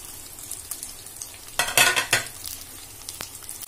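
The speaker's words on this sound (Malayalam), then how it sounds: "എന്നിട്ട് ഈ നാളികേരം നമുക്ക് ഒരു ബ്രൗൺ കളർ ആവണ വരെ നന്നായിട്ടൊന്ന് വറുത്തെടുക്കാം." Grated coconut roasts in a pan for a Kerala koottukari, a low sizzle broken by a short burst of scraping and clinking from stirring near the middle, then a single faint tap.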